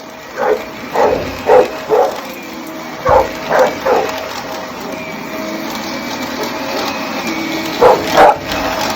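Dog barking at a running vacuum cleaner, loud sharp barks in quick clusters of two or three over the steady motor drone, with pauses between bursts.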